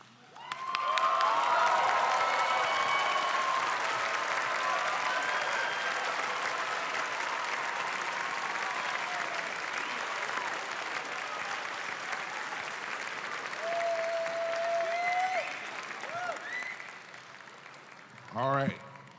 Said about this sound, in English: seniors, please stand and give a round of applause